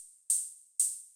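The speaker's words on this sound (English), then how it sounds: "I was trying to just make kind of like a drum machine style," Two drum-machine-style open hi-hat hits synthesized from white noise in Ableton Operator ring out half a second apart, each a crisp bright hiss that fades slowly, with no other sound.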